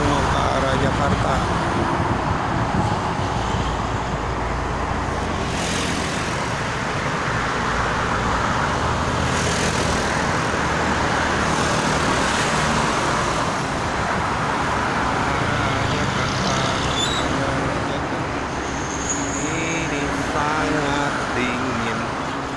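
Vehicles, including a tour bus, roar steadily along a Jakarta toll road on a cold, windy morning, a continuous close wash of road noise with wind buffeting and a voice talking over it.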